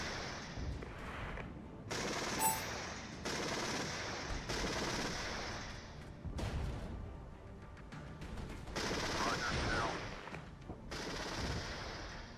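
Gunfire aimed at MO-24 aircraft in the strategy game Regiments, played as US forces, comes in repeated bursts of rapid, heavy shots with short gaps between volleys, fairly loud and continuous.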